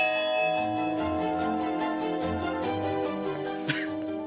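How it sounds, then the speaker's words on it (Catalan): The small bell of a monastery rings loudly, its sustained metallic tone humming continuously with layered overtones, and a short sharp noise briefly cuts in near the end. "És una de les campanes del monestir, la petita."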